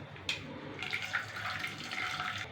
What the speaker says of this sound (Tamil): இதில் இருக்க தண்ணியையும் இதை வடிகட்டிக்கிறோம்.